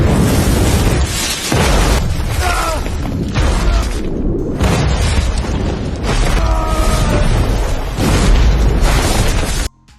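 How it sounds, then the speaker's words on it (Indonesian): Clashing weapons set off a huge blast in a riverbed battle scene from a Dynasty Warriors film, a dense, loud, sustained roar of booming and rumbling with brief dips, cutting off abruptly at the end. "bentrokan terjadi, dan menyebabkan ledakan besar di dasar sungai"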